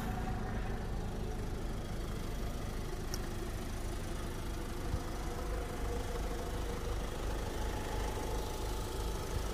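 A Ford Figo Aspire's 1.5 litre TDCI diesel engine idles with a steady low clatter and hum, recorded up close and continuous throughout, with no voices over it.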